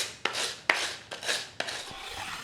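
Hand sanding of a small handmade wooden toy car: dry, raspy strokes of abrasive on wood come in a few separate passes with short pauses between them, close and fairly quiet, with no talking.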